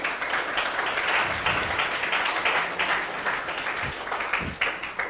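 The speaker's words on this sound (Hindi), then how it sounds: "इस जवाब के लिए तालियां होनी चाहिए सर के लिए।" A hall of students at a UPSC workshop breaks into applause for a guest's answer, a full wash of clapping with a few louder individual claps standing out near the end.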